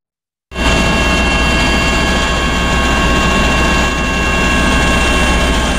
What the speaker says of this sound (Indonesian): Tim gabungan Basarnas melakukan pemantauan udara menggunakan helikopter di atas perairan Selat Bali bagian utara dan selatan